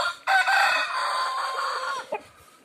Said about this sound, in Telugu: ఇవన్నీ పందెం పుంజులు ఫ్రెండ్స్, పందెం కోళ్ళు ఫ్రెండ్స్.